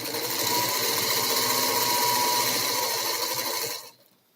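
A sewing machine stitching a quilt runs as a steady, loud, even whir of rapid needle strokes for several seconds, then stops abruptly, leaving near silence.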